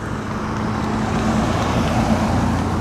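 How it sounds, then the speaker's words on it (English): A car passes on a road, a steady loud rumble of engine and tire noise swelling slightly toward the end. "There is car coming, excuse me."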